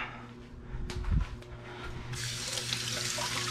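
A kitchen sink tap runs while dishes are washed, a steady close splashing stream that grows brighter and fuller partway through, with a few soft clinks and knocks beneath it.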